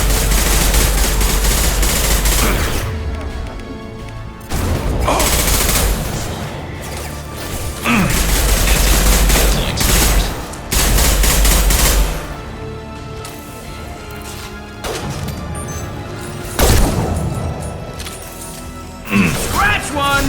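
Rapid automatic gunfire and sharp shots crackle in bursts during a Mass Effect 2 firefight, loud and close, broken by brief pauses and impacts, with voices calling out between volleys.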